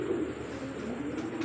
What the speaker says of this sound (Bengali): দর্শক দেখতে পাচ্ছেন এখানে এক জোড়া ফ্লাই করানোর জন্য কবুতর, রেস করাতে পারবেন, ফ্লাই করাতেও পারবেন